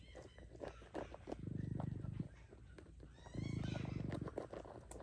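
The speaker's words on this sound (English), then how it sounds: "You hear the foxes reminding me to hurry up." Foxes at an animal sanctuary calling near feeding time: two stretches of low, rattling, purr-like chatter, close and fairly quiet, separated by rustling and light handling noise.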